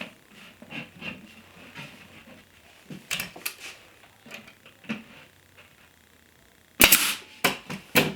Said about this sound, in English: I'll drive a couple of pins in just to hold it in place